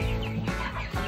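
Thirsty chickens clucking in a brooder, loud and close, with overlapping throaty clucks running continuously through the short moment.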